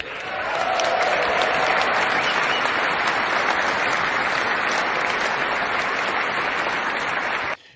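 Sustained audience applause at a Trump inauguration-day speech, a dense, loud wash of clapping that holds steady for several seconds before cutting off abruptly.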